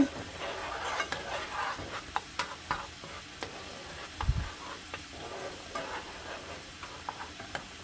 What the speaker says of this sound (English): I'm going to go ahead and mix this in